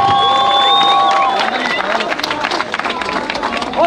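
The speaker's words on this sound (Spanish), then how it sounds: "ese es un aplauso, ¡dáselo bien!" A rap battle crowd at a national freestyle event claps and cheers loudly after a quarterfinal round, with shouts and crowd noise over the clapping and a whistle-like tone at the start.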